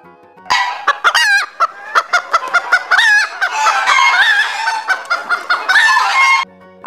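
A hen clucks loudly and close by, in rapid repeated bursts of squawking calls for about six seconds, with no talking.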